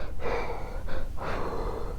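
Heavy, breathy panting imitated by a voice, several rapid rasping breaths in close succession, close and fairly loud.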